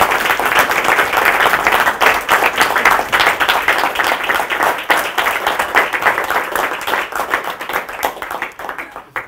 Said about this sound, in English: If we could just give him a round of applause.